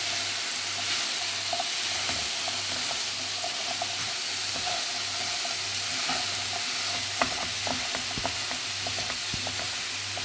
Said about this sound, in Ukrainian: Додала яблучка і швиденько перемішую.